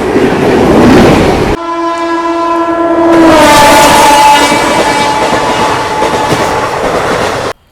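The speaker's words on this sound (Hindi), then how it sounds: "आज हम यात्रा कर रहे हैं कोटा से सिरसा के बीच में चलने वाली कोटा सिरसा एक्सप्रेस में" The Kota Sirsa Express, an Indian passenger train, sounds a long loud horn blast over the heavy rumble of its running, and the horn fades as the rolling noise carries on.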